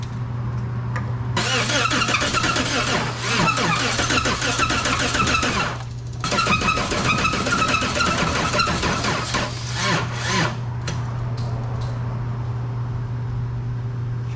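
A car engine, running after oil was added, starts and keeps going with a steady mid-pitched drone and a strong low hum. It briefly dips and surges a few times before settling into a quieter idle, and nobody speaks.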